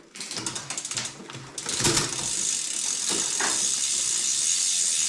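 Rear derailleur on a rebuilt mountain bike with an underinflated tyre runs through several quick shifts: a close, steady run of dry mechanical clicks and ratcheting over a constant whirring drivetrain, with no talking.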